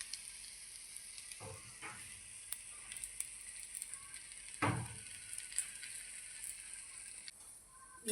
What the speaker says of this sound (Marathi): छान असं आमलेट आपलं भाजलेलं आहे